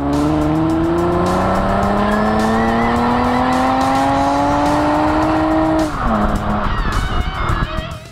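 A 2021 Toyota Avalon TRD V6 with a tuned exhaust, heard while driving: loud, rising engine and exhaust revving that climbs steadily, then drops sharply at a gear change and carries on more roughly.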